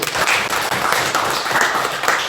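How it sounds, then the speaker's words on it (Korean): A church congregation applauds together during a Sunday worship service in a dense, steady patter of many hands clapping, with no voices standing out. "다시 한번 박수 한번 할까요?"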